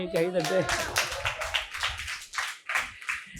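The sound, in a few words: audience clapping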